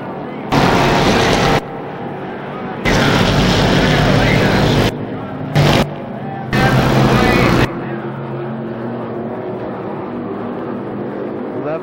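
Race cars at a 1993 Winchester Speedway event roar past on the front straightaway in loud, sustained bursts separated by brief gaps, close and powerful, with quieter background noise between passes.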